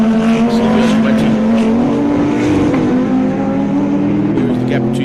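Lamborghini race cars circle a circuit at a national racing festival, a steady loud engine drone holding a sustained pitch throughout, with a commentator talking over the roar.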